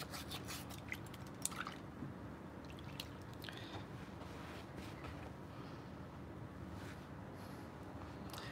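A trumpet slide is scrubbed in soapy water in a kitchen sink, giving soft continuous sloshing, squishing and dripping close by, with a few sharper clicks of metal near the start and a low wet wash underneath.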